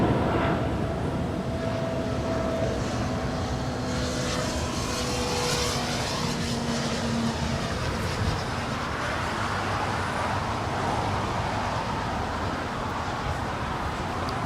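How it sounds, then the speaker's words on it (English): A Qantas Boeing 787 Dreamliner arrives at LAX from Melbourne, giving a continuous moderate engine whine and rumble that stays level throughout, with no voices. "here comes the Qantas Dreamliner coming in from Melbourne"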